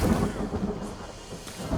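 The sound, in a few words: rain and thunder in video game The Forest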